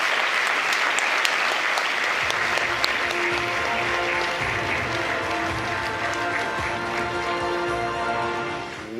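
Steady, dense applause from a large audience at the Afreximbank 2025 annual meetings, honoring Dr. Terence Drew, sustained at even loudness for nine seconds before tapering slightly at the end.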